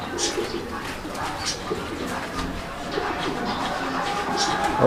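Fancy pigeons coo in a loft, a female near laying, their soft repeated calls close by over steady background noise, with occasional talk.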